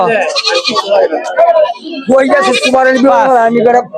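Goats bleat at a busy livestock market, with loud wavering cries coming close and overlapping across the whole stretch amid the surrounding crowd.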